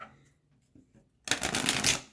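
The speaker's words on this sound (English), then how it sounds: "These cards are massive though, so sometimes I struggle with shuffling" Large, oversized tarot cards being shuffled during a reading, a dense papery riffling burst that starts abruptly after quiet and continues loudly to the end.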